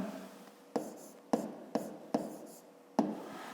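Chalk or marker strikes a board while segment names are written in a fifth-grade geometry lesson: five or six sharp, separate taps, each with a short scratchy tail, quiet and close, with no talk.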